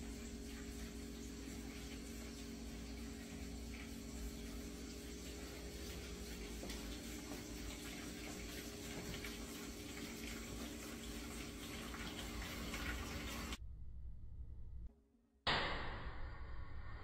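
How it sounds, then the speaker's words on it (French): Water rushes steadily from a shower that has turned on by itself, a constant close hiss lasting most of the time before abruptly cutting off, followed by a brief faint noise. "la douche qui s'allume d'elle-même"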